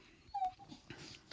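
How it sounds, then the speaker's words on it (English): A dog whines indoors, wanting to play: a brief high-pitched whimper near the microphone, faint and short, with soft breathing and room noise around it and no talk. "I'm sorry about my dog whining over here."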